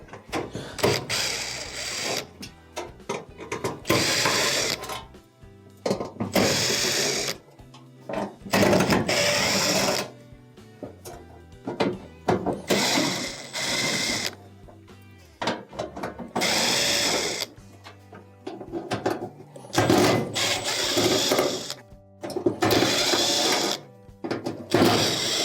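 Screws holding down a range cooktop are backed out with a powered driver in repeated loud whirring bursts separated by short pauses, close and mechanical throughout, with no talking.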